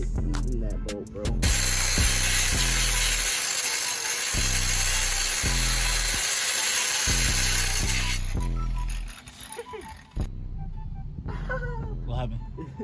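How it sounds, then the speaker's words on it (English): A Milwaukee power tool cuts through a bolt on a Honda Accord during exhaust test-pipe work, a steady loud mechanical whir with rhythmic pulsing that runs for several seconds, then stops and restarts, while people talk nearby. "Nah, like it's cutting the bolt."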